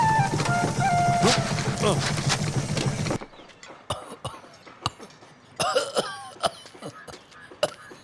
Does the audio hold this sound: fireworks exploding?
no